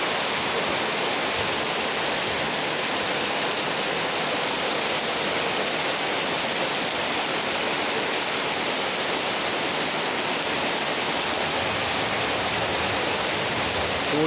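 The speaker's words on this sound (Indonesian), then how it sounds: "Hujan disertai angin kencang." Heavy rain driven by strong wind pours down steadily at night in a village, a dense, unbroken roar of water close by with no letup, while irrigation channels and gutters overflow.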